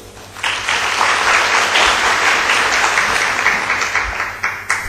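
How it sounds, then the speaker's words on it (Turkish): Sustained applause from a conference audience in Istanbul, dense steady clapping rising quickly after a quiet start and filling the whole stretch at a fairly loud, even level. "Vallahi bu alkışlar benim için yapmayın, kendi için de güçlü bir alkış istiyorum arkadaşlar."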